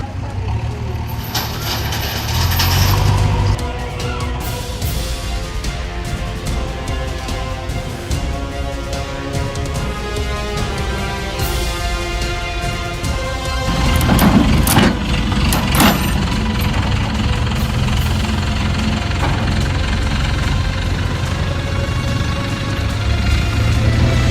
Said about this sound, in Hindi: वो क्रेन है, वो अपने आप उतार देगी